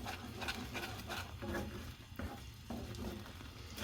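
A spoon scrapes and stirs onion gravy across the bottom of a hot pan, giving a faint, continuous sizzle with rhythmic scraping strokes through the whole stretch.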